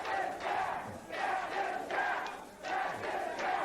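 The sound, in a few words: wrestling fans cheering Cactus Jack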